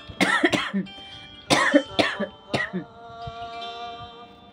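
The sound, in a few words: coughing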